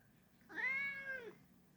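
A cat lets out a single clear meow, rising then falling, close by but fairly soft, over quiet background noise with no talking.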